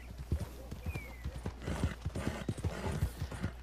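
Horse hooves clip-clop steadily at a riding pace in Red Dead Redemption 2, close and clear, with a low constant rumble underneath and no talking.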